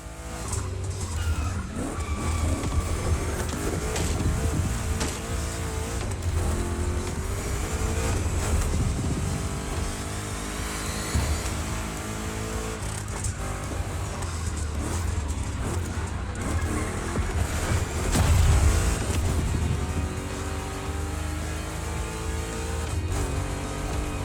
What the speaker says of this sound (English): Two Chevys, two big blocks, but only one winner.